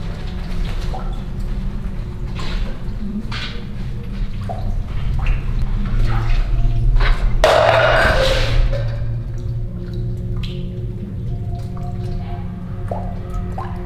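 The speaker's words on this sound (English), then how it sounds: "Just listen to the rain." Rain drips steadily inside an abandoned building with flooded utility corridors, with scattered close splats and plinks over a low background wash that swells briefly midway.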